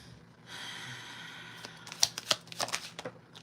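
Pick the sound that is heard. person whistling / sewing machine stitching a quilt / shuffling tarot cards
shuffling tarot cards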